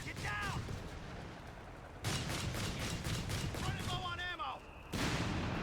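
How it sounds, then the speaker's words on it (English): Barrage of 75mm artillery in Company of Heroes 3, with a string of booming shell impacts and whistling incoming rounds, punctuated by loud blasts over a continuous battlefield rumble. "75mm getting a nice little barrage here."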